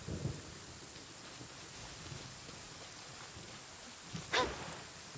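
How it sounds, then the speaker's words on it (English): Steady rain hisses in a Genshin Impact game world, with a few soft low thunder rumbles and one sharper crack near the end, no talking. "It's a good thing it's raining right now."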